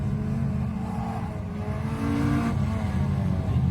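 Honda race car driving through a sweeper toward a slalom, a steady engine drone holding and rising slightly as it pushes on, moderately loud and continuous, no talk.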